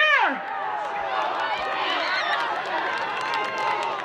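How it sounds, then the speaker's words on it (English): A high school spirit night crowd cheers a tug of war on an outdoor field, a steady roar of many overlapping shouts and whoops that opens with a rising yell and carries on without a break. "Cheer for your team, guys, cheer!"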